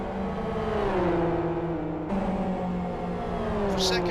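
SuperGT GT500 race cars roar down the start-finish straight, side by side. Their engines drone loudly with pitch bending as they pass, and one car shifts gears partway through.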